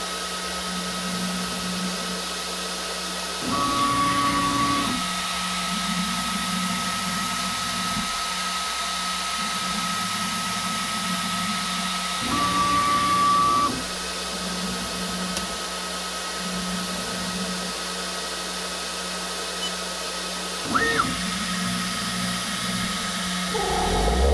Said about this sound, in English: You could see the air extractor is pulling it